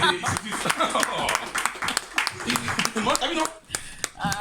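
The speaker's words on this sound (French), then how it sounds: "Acclame très fort" An audience claps and cheers loudly in bursts, with voices and laughter mixed into the dense applause.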